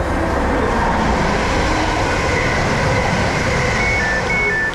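A train runs at speed in the UK heading toward Stratford, giving a loud continuous rumble and rattle from inside the carriage, with faint squeals near the end and no speech.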